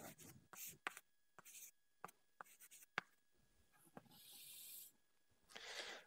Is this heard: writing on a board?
yes